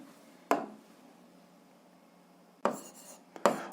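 Pen or chalk strokes writing out a math solution for a seventh-grade algebra exercise: one short scratch, a pause, then two more quick strokes, close and fairly faint in a quiet room.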